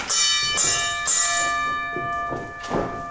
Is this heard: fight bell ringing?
yes